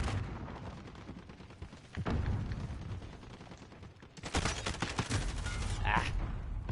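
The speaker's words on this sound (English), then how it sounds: "Just hit my grenade." A grenade goes off in Call of Duty: Modern Warfare among dense gunfire, with heavy booming blasts and rumbling bursts that fill the scene loudly, and a voice is briefly heard amid the noise.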